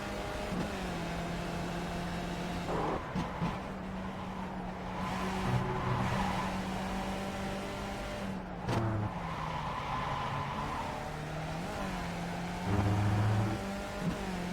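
Skip Barber race car at Road Atlanta in iRacing, a steady close engine drone with repeated shifts in pitch as it brakes and changes gears, plus occasional tire noise.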